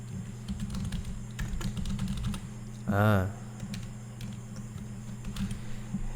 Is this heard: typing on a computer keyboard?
yes